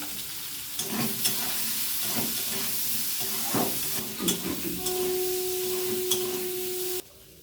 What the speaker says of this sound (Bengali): আলুটা টমেটোটা একসাথে দিয়ে দিচ্ছি, দিয়ে একটু নিয়ে দেবো হালকা করে, যাতে এটা ভাজা হয়ে যায়